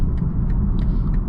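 A 2020 BMW 330i drives along a road, heard as a steady low rumble of tyres and engine from inside the cabin, with a few faint brief ticks above the drone.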